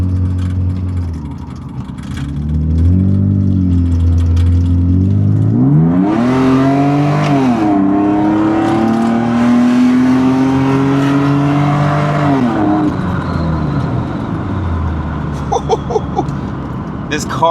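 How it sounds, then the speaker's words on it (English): A BMW E36 328i engine revs loud and close from inside the cabin, climbing and dropping through several gear changes with a strong droning note, then settling near the end as it cruises. "This car is loud."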